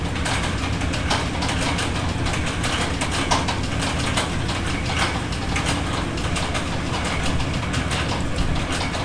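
At Sitakunda railway station in Chittagong, a train rumbles past with a continuous rattling, clanking roar of wagons and wheels, loud and steady throughout.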